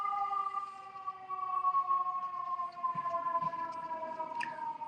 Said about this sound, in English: I'm gonna let this siren go down a little bit.